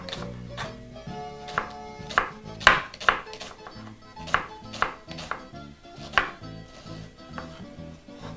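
A knife chops food on a board in a run of sharp, uneven thuds, about a dozen close, loud strikes with faint background tones between them.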